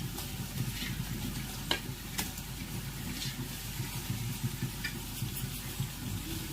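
Mutton liver pieces fry in masala with curry leaves, giving a continuous bubbling sizzle with intermittent stirring scrapes and clicks at close range, no talking.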